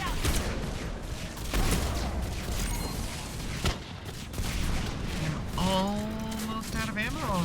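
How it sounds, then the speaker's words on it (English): Explosions and gunfire fill a chaotic video game firefight, with dense overlapping bursts and loud booms throughout and voices talking over the din. "All these big explosions are making it really hard to see"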